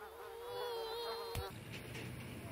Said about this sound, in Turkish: Buranın sivrisinekleri berbattır.